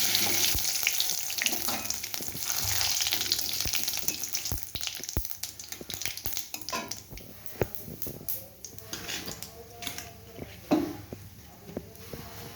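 Cumin seeds and a bay leaf tempering in hot oil in a kadai after frying fish-roe fritters: a steady close sizzle and crackle with scattered sharp pops and spatters, no talking.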